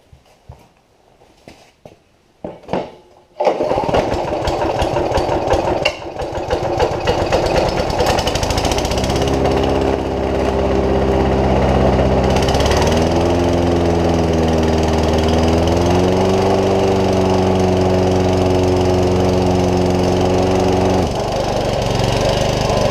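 A Honda lawn mower under carburetor repair is cranked several times with a few rough, sputtering bursts, then catches and runs steadily and loudly at close range, its engine note wavering slightly as it settles.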